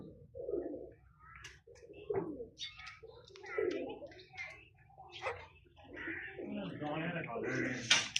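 Pigeons coo in soft low bursts repeated through the scene, with someone speaking over them at close range and some chirps mixed in.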